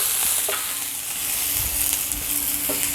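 Chicken and vegetables sizzle on a hot griddle greased with coconut oil. A steady, dense frying hiss is close and loud, with a few soft scrapes of hibachi-style spatulas beneath it.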